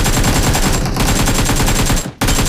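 Rapid automatic gunfire from the video game BGMI rattles loud and continuous, breaking off for a fraction of a second near the end before resuming.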